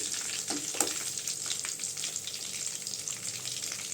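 Kilanga fish frying in hot oil, a continuous crackling sizzle close up with a couple of sharper pops near the start, fairly quiet overall and with no voices.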